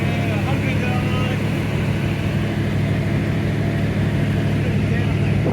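Triumph Stag engine idling steadily, a smooth low rumble and hum heard from close by with people talking over it.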